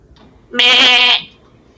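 A human voice imitates a mountain goat's bleat, giving one nasal, wavering 'meh' about half a second long that is close and clear against near silence.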